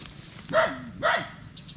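Two sharp, yelping dog barks about half a second apart, close and fairly loud, with quiet background between them.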